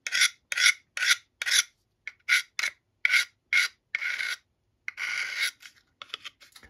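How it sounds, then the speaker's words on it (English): A small survival knife tip being drawn across a built-in sharpener, a dozen or so short raspy strokes in an uneven rhythm, close and fairly loud, with no talking. "I was able to just fix the tip on this built-in sharpener"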